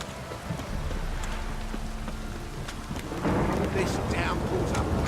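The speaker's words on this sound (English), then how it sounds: "This downpour's a bastard, isn't it?" A downpour in The Witcher 3 game world, steady heavy rain with rumbling thunder that swells louder partway through, and faint voices murmuring beneath.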